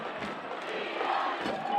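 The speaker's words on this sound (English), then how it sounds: "Down below, you can hear those Cougar fans with the chanting of USF as their team leads at 10-0" Cougar football fans chanting in the stadium during a game against Reinhardt, heard faintly from a distance as a broad crowd roar.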